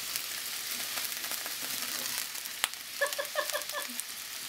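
Meat sizzles in a pan heated on high, a steady close hiss with a few crackles and a sharp pop, briefly joined by faint murmured voices near the end.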